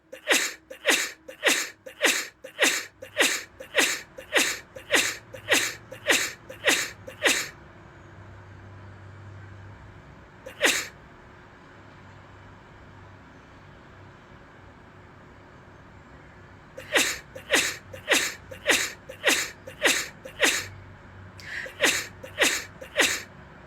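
Sneezes from allergies burst out in a fast, evenly spaced run of about a dozen, then a lone sneeze after a quiet stretch, then two more rapid runs. They are close and loud over a faint low background hum.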